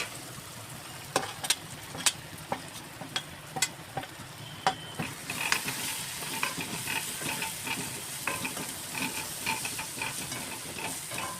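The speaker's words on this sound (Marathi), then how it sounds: "टमाटर छानपैकी तेलामध्ये परतून घेतलेले. आता यामध्ये मी लाल तिखट घालते." Tomatoes sautéing in oil with red chili powder give a steady close sizzle, broken by sharp scrapes and clicks of a stirring spoon, the frying swelling louder and denser partway through.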